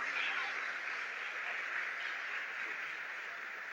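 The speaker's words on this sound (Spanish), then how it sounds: "al equipo de liturgia, un aplauso muy bien." An indoor audience at a liturgy workshop gives the liturgy team a round of applause, a steady wash of clapping that holds evenly for a few seconds at moderate loudness.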